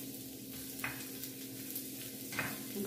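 Onion sizzles in a pan, a soft, continuous frying hiss broken by a couple of brief stirring scrapes, fairly quiet and close, with no talking.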